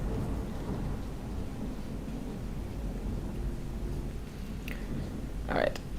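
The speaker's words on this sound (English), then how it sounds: "I think Arno is very nervous about a thunderstorm." Thunder from a storm outside rolls as a continuous low, distant rumble with rain-like hiss throughout, and a couple of brief sharper sounds near the end.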